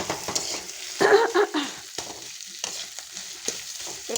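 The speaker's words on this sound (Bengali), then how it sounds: "তারপরে এমনি দেওয়ার পর আপনারা বেশ করে নেড়ে চেড়ে নেবেন" Onions and potatoes frying in a pan while being stirred, with a soft steady sizzle and a burst of louder scraping around the middle, followed by intermittent spoon knocks and scrapes.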